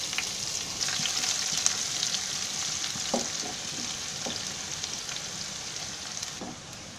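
Onion fries in a hot pan with whole spices for broccoli veg biryani, a dense, even sizzle with a few light taps of stirring over the top.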